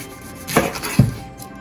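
A knife chops the ends off an onion on a cutting board, two sharp close thuds about half a second apart against a quiet kitchen background.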